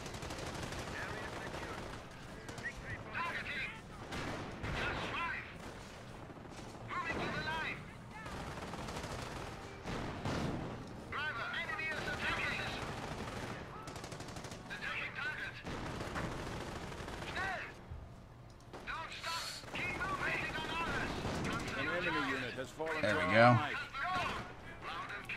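Machine gun bursts and heavier artillery fire crackle through a video game battle, repeated volleys rising and falling at moderate distance while someone talks over much of it.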